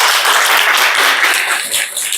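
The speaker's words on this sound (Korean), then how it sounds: "큰 박수 보내주십시오" Audience applause at a talk concert, a steady wash of many hands clapping at close range, sustained throughout with a slight dip near the end.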